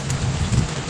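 Steady rain falls outdoors at a fish pond while tilapia pangat and pork adobo cook, a dense, even hiss with low rumbling underneath, continuous and fairly close, with no voices.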